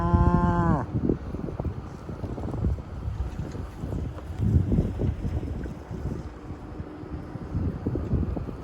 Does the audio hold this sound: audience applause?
no